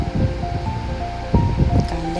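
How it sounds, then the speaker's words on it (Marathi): Sliced onion sizzles and hisses in hot oil in a pan as it fries toward golden, a close, steady crackling with brief scraping stirs. "कांद्याला चांगल्या प्रकारे मी आता परतून घेणार आहे."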